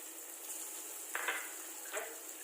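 Sliced onions and green chillies frying with mixed vegetables for veg Manchurian, a soft steady sizzle with a couple of brief stirring scrapes, fairly faint and alone.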